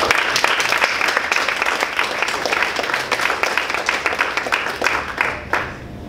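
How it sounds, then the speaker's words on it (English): Audience applause at a Toastmasters club meeting, steady dense clapping filling the room for several seconds before fading out at the end. "So give everybody a big round of applause."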